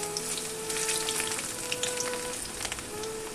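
Chopped onion sizzles steadily in hot oil in a home kitchen pan, a close, even frying hiss with faint crackles and no talking.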